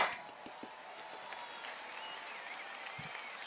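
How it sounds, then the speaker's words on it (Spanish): A crowd at the Red Bull Batalla de los Gallos freestyle rap final applauds, a soft continuous patter of clapping heard faintly and far off, with a few sharper claps near the start. "Dale un fuerte aplauso."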